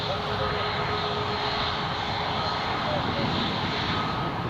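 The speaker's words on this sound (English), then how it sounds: "Next up is the Emirates to land." An Emirates airliner landing on runway 07 at Newcastle International Airport gives off a steady, loud broadband engine roar that holds throughout, with a faint thin whine layered on top.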